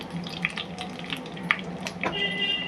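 Whole garam masala, dried chilli and bay leaf fry in hot oil with a light, continuous crackle and spluttering, punctuated by a few sharper pops at moderate volume.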